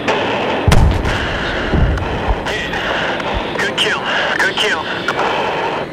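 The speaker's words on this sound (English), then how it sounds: "That's a fucking jet. Bombs away." Jet bombing run in Battlefield 3, with deep thudding explosions and booms rolling under continuous combat noise and jet roar, a couple of heavy low impacts standing out amid the mix while voices talk over it.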